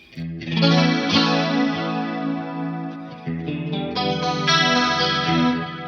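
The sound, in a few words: Stratocaster guitar, bridge-middle pickup position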